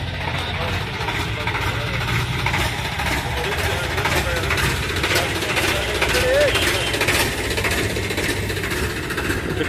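Swaraj 744 FE tractor, a 2011 model, idling at a tractor market in Talwandi Sabo, giving a steady low engine rumble under continuous nearby chatter and talk from a crowd.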